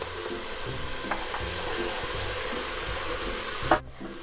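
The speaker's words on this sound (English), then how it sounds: "To that we're just going to add in all those onions." Onions frying in olive oil in a pan, a steady broadband sizzle with a few soft scraping stirs and a clack near the end, close and continuous with no talking.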